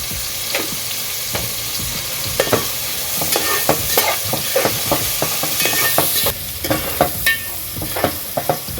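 Sliced onions with salt frying in a pan, a dense close sizzle punctuated by regular scraping strokes of a spatula stirring, louder and busier toward the end, no talking.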